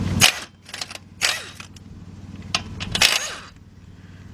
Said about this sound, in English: So let's get our air gun over here,